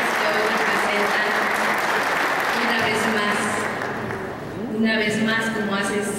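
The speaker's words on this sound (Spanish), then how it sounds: "Un fuerte aplauso para todos ustedes" Audience at the Holy Week Passion play in Iztapalapa, Mexico City, applauding the eight neighborhoods: continuous crowd clapping, loud and fairly even, with a murmur of voices and a brief dip before it swells again.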